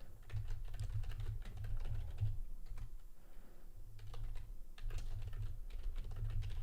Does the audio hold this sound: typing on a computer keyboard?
yes